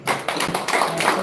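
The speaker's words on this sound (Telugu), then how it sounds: "ఒకసారి సార్కి గట్టిగా క్లాప్స్ చేద్దాం." An audience at a live spiritual talk and satsang in Bengaluru claps in a dense, continuous burst of applause.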